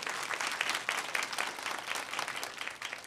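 A church congregation claps together in a steady, dense burst of applause during a worship service, many hands blending into a continuous wash of sound with no voices standing out.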